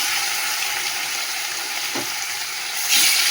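Fish fries in a pan with a continuous bright sizzle, close by, joined by a couple of soft stirring or turning knocks and a louder burst of spitting near the end.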